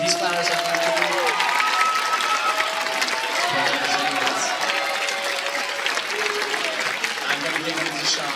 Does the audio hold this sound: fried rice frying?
no